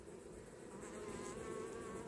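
A steady, close swarm of honeybees drones continuously around an open hive being inspected after heavy rain, with no voices over the buzz.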